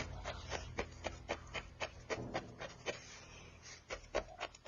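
A felting needle jabbing repeatedly into wool on a small felted penguin, making soft, quick rasping scratches in an uneven, close rhythm over a quiet background.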